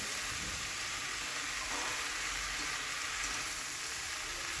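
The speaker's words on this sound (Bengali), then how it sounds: "শাকটাকে ভালো করে আমি মশলার সঙ্গে কষিয়ে নিচ্ছি" Soft leafy greens being sautéed with spice masala in a pan, making a dense, steady sizzle that runs unbroken throughout.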